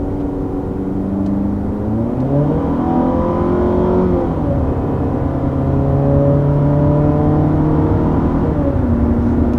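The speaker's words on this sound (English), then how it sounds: "that was our first acceleration here in this Jeep Cherokee" A 2020 Jeep Cherokee with the base engine accelerates hard, its engine note climbing in pitch through successive gear changes, heard loud and steady from inside the cabin.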